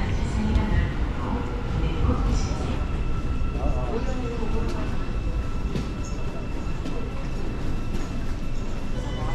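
A metro train in South Korea pulls into a station platform, a steady broad rumble of wheels and motors with faint squeals, continuous throughout while people talk over it.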